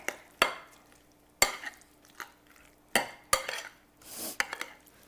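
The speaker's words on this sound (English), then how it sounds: "Give it a quick stir." Chopped onion being stirred into macaroni salad in a bowl: scraping strokes and sharp clinks of a utensil against the bowl, in irregular bursts with quiet gaps between them, close up and with no talking.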